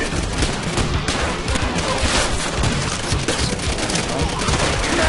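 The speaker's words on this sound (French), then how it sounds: "Mitrailleuse ennemie! Là du bunker démoli!" Dense, continuous machine gun fire and explosions from the Call of Duty: World at War video game, Japanese enemy guns rattling loudly amid battle noise with shouted voices mixed in.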